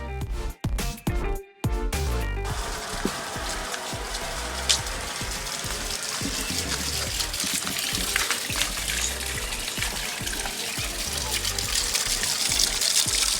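A small backyard water feature trickles and splashes in a steady, continuous flow, heard fairly close, with a few brief bumps at the start.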